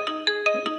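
A Redmi 11 Prime 5G phone plays a ringtone preview, a bright electronic melody of four quick evenly spaced tonal notes, close and clear with no talking.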